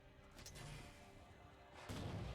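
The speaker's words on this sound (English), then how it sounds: "I'm just going to try to use a Forerunner grenade down here." A Forerunner grenade detonates in Halo 4, a muffled distant boom followed by a low rumbling blast that swells near the end amid dull game ambience.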